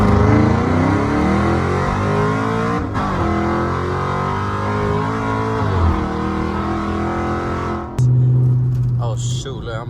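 A cammed Dodge Charger R/T in manual mode accelerates hard, its loud, lopey engine climbing through the revs, dipping briefly at shifts and surging again, heard from inside the car with talking over it.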